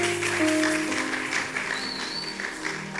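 A church congregation claps together during a sermon, a steady wash of applause with sustained tones underneath that thins toward the end.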